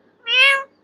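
A pet parrot mimics a cat with one clear, drawn-out meow, close and loud against a quiet background.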